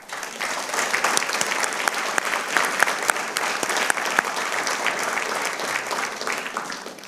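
An audience at a school board meeting applauds student award winners, a loud, dense burst of clapping with sharp individual claps standing out, sustained evenly for several seconds.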